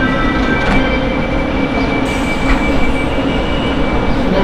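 Train at the Púchov station platform, a steady loud rumble of railcars rolling past with faint wheel squeal and rail clatter, no voices.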